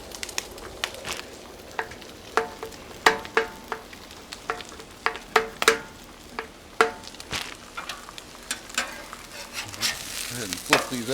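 Pastrami hash and eggs cook on a Cuisinart 360XL flat top griddle, a soft sizzle broken by frequent sharp scraping and tapping of a metal spatula at irregular intervals, close by.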